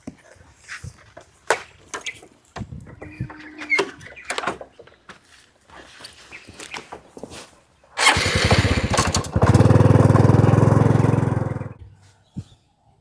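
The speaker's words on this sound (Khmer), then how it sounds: "មកឡើងម៉ូតូមក" A motorcycle engine starts and revs loudly close by for a few seconds after scattered footsteps and bumps, then cuts off.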